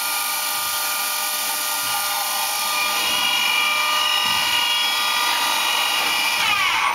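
The main spindle of a Hanwha ML-26 CNC Swiss lathe runs at 3,500 RPM while the machine sits on blocks, a steady high-pitched whine with a shifting tone that stays loud and constant throughout.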